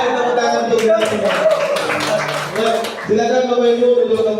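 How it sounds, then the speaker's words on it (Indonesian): An audience at an Indonesian teachers' workshop claps in a burst of scattered hand claps mixed with voices, the clapping fading while a strong, steady tone continues over it. "Baik, tepuk tangan untuk kita semua."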